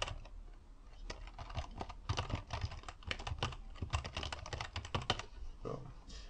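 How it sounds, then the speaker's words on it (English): Typing on a computer keyboard while entering a description during Final Cut Pro editing, a steady run of quick, light clicking keystrokes, close and fairly quiet, with no talk. "you can just type whatever you want in the description."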